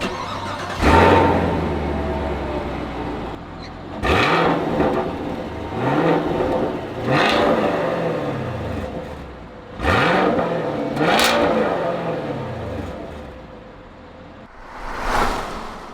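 Chevrolet Camaro exhaust revved repeatedly while parked, five or six sharp blips rising and falling with a rumbling idle between, loud and close, no talking.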